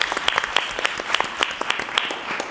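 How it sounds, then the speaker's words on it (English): A small group at a board meeting gives a round of applause: sparse, distinct handclaps in a loose, uneven rhythm, fairly close and moderately loud. "So if we could just please give a round of applause to Farm Corps."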